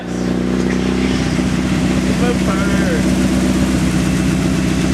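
A cammed second-generation Mitsubishi Eclipse engine making about 600 horsepower runs loud and steady, with a lumpy, rumbling idle that stays close throughout and has no pause.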